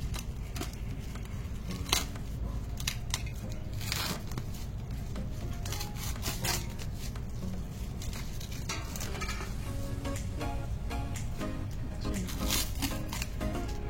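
A parcel of home decoration items ordered online, wrapped in light polythene, crackles and rustles steadily as it is torn open up close, sharp crinkly bursts recurring throughout with no talking.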